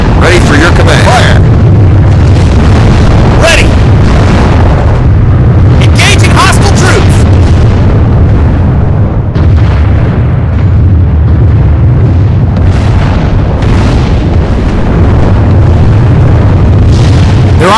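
Artillery fire and explosions in the World War II strategy game Order of War, on the road to Paris, with loud continuous booms and bursts rumbling throughout and several sharper blasts standing out.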